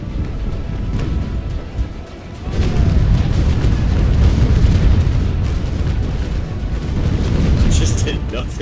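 Ship cannons fire in the naval battle game Naval Action, heavy booms rumbling into a sustained low roar of continuous gunfire, loud and close, with a voice talking over it.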